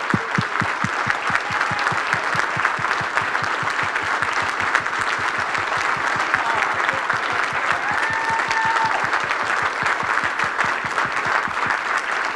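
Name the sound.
audience applause honoring military veterans at gala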